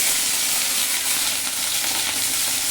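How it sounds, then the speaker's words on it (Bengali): Okra frying in a pan of hot oil, a loud, steady sizzle that fills the whole stretch without pause or speech. "তেল গরম হয়ে গেছে, এখন আমি ভেন্ডিটা দিয়ে দেব।"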